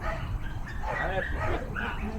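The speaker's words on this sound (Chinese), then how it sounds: "那小狗不停的在叫" A small dog barks repeatedly in short yappy bursts, somewhat distant, over steady outdoor background noise.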